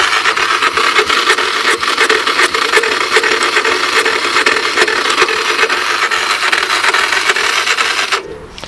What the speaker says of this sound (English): I get nothing except a really horrible sounding starter